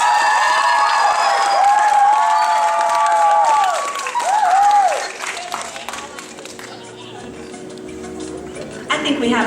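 A dating show audience applauds and cheers for a contestant, dense clapping and whoops that fade after a few seconds into a quieter room with scattered noise.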